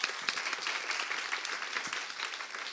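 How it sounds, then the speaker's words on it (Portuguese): Applause from a seated audience at a talk on the web's past and future, a fairly quiet, even wash of many hands clapping throughout. "Palmas para ele."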